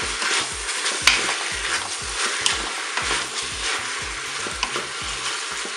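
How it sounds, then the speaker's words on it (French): Endives browning in a Cookeo pot, sizzling steadily up close while they are turned, with repeated soft scraping strokes and a few sharp clicks of the utensil against the pot. "Et le but du jeu, ça va être de retourner un petit peu les endives sur toute leur face."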